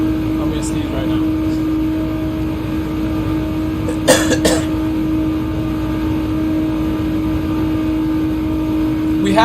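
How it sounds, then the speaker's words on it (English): A person sneezes twice in quick succession, two sharp, close bursts about halfway through, over the constant hum of a racing game car engine. "I'm gonna sneeze right now."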